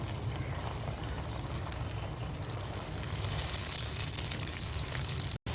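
A dense, even sizzle and crackle of frozen garlic and ginger paste frying in a pan for fish curry, holding at steady loudness close up throughout, with a single brief dropout near the end.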